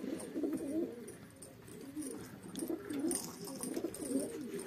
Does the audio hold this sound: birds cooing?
yes